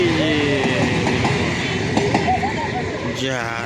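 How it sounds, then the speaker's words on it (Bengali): A passing train rumbles and rattles steadily with clattering wheels, loud and close, while people talk over it. "যা চলে গেল ট্রেন"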